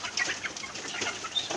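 Desi hens kept in a cage inside a flood-hit poultry shed cluck in short, scattered bursts at close range, with no talking over them.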